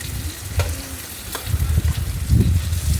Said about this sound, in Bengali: আলুটা লাল লাল করে ভেজে নিই।